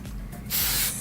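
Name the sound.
hairspray being sprayed on hair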